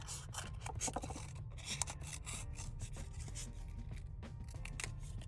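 Scissors cut paper along a wavy line for a crayon art project, a close, quiet, steady rasping snip that continues throughout with no speech.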